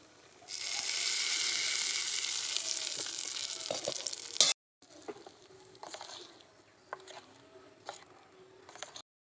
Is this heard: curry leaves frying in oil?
yes